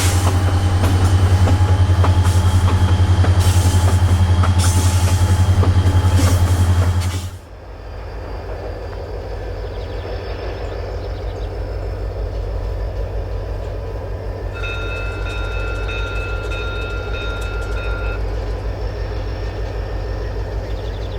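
A freight train on the Battle River Railway rounds curves on the prairie, first with a loud engine drone, then a steadier rolling clatter of cars, a faint squeal joining midway.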